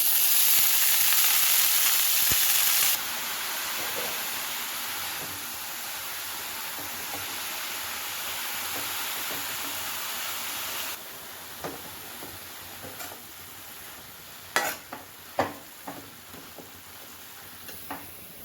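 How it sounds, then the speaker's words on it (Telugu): Coriander leaves frying on a stove, a steady broadband sizzle that drops in level after a few seconds and later gives way to scattered stirring clicks and taps, close by with no talk. "ఈలోపు స్టవ్ వెలిగించి కొత్తిమీర వేయించుకుందాం."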